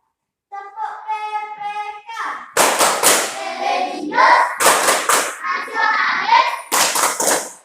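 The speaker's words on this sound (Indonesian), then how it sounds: "Untuk selanjutnya mari kita melakukan tepuk PPK." Schoolchildren in a classroom perform the PPK clapping chant, with loud bursts of rhythmic group clapping mixed with voices, following a short spoken lead-in.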